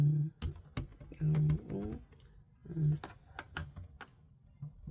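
Quick bursts of close computer-keyboard typing as a post is written, sharp clicks in uneven clusters, with a voice speaking softly between them.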